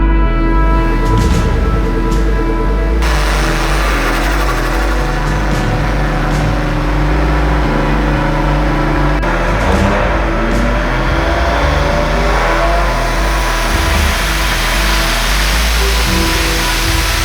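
A Nissan Skyline's engine runs loud and steady on a dyno for the whole stretch, its dense broadband roar swelling slightly in the final seconds.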